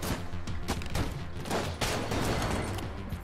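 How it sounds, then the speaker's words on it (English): Rapid pistol gunfire in the video game Enter the Gungeon, a dense string of loud, punchy shots fired in quick succession with explosive bursts, continuous and close throughout. "This pistol is so powerful"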